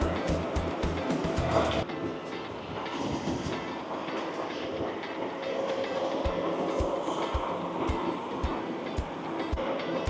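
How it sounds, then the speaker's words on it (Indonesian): A DB ICE 4 train on the rails: a rumbling pass with rhythmic wheel clacks over rail joints, moderately loud, first dense and then settling into a regular clickety-clack, with faint background voices. "Dia keretanya."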